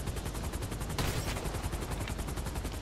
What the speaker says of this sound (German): Achtung, ich schieß mal auf deinen Arm.